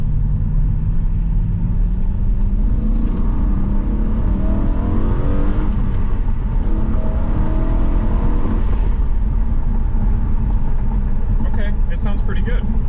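A BMW E93 M3 engine revs while driving, a deep rising and falling growl heard from inside with a window down, and people talk over it.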